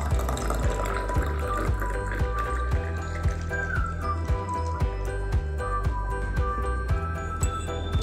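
Milk is poured into a glass for thandai, a steady liquid fill with small clinks and drips, fairly quiet and close, with no talk.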